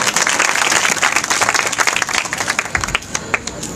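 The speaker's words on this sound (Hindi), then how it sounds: "इनके लिए भी एक बार जोरदार तालियां बजा दीजिएगा।" Enthusiastic clapping from a church congregation acknowledging college students, a dense burst of many hands that gradually thins out into scattered individual claps toward the end.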